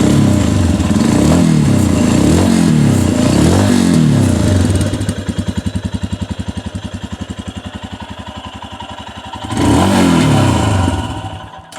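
Royal Enfield Himalayan motorcycle engine and exhaust, close and loud: three rising revs at the start, then a steady pulsing idle with audible firing beats, and a final strong rev near the end.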